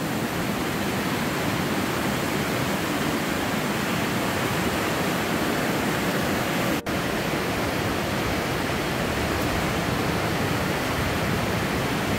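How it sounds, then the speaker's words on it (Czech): Loud, continuous rushing of turbulent river water in a gorge on the River Lammer in Austria, swollen after rain, a steady broadband roar that never lets up, with no voices. "Voda je trošku divočejší po těch deštích."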